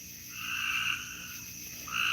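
Frogs croak in a loud, dense chorus at night, overlapping rising calls swelling and fading with no voices over them.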